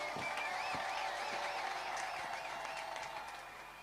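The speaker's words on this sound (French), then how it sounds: "Les applaudissements pour le Seigneur Jésus-Christ." A church congregation applauds during a service, soft steady clapping with a warbling musical or sung tone running through it, fading slightly toward the end.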